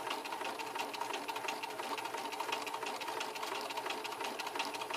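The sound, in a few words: sewing machine stitching a patch pocket on the lining side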